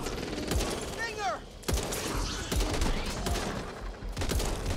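Gunshots ring out in the co-op zombie shooter Back 4 Blood. Four or five sharp, loud single cracks come at irregular intervals over a busy game background, with a brief whistling sweep between the first shots.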